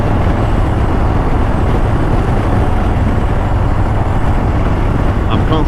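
A Harley-Davidson Low Rider ST with hard bags cruises along in a loud, continuous roar of engine and wind that never lets up.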